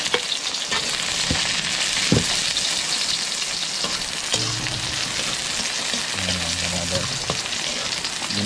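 Onion and garlic sauté in a pan for mushroom guisado, a dense, loud, continuous sizzle close up with a few clinks of utensils, and a voice murmuring faintly beneath.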